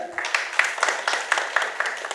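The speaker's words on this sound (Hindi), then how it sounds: "नक्कारा हमारे विजय मिश्रा सर के लिए एक बार जोरदार तालियां" Modest clapping from a small theatre audience during credits after a stage play, with distinct individual claps in a loose, fairly regular patter at moderate volume.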